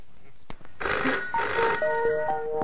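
A telephone rings at a provision store: after a sharp click, bright, sustained electronic ringing tones sound in bursts, close and fairly loud.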